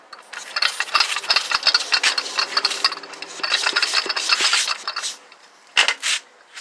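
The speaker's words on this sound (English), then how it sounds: "So my spark plug is letting the pressure out." Compression leaks past the spark plug on a motorized bike engine as it turns over, giving rapid, uneven puffing and hissing bursts up close, then a couple of louder spurts near the end.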